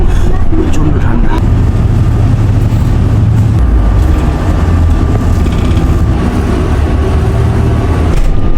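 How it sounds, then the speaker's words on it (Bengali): Low engine rumble and road noise inside a bus heading to a station near Tokyo on a very cold day, steady throughout with a voice talking over it. "বাসে উঠে পড়েছি, এবার এখন স্টেশন যাচ্ছি।"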